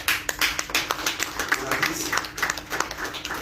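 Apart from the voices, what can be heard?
audience applause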